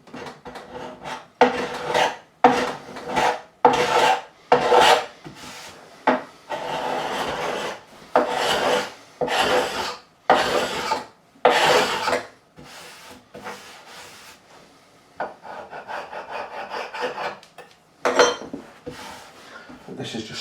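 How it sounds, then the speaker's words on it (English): Sandpaper rubbed by hand over hardened epoxy on a Warwick Corvette bass neck, rhythmic scratchy strokes repeating close up, with a voice speaking over parts. "So let me keep sanding it and see where we are in a short while."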